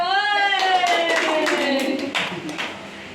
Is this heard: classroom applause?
yes